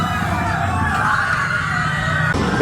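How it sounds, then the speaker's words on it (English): Crowd of people screaming continuously inside a museum exhibit at WonderWorks, a dense, loud, reverberant wash of voices lasting throughout. "Screams are horrifying."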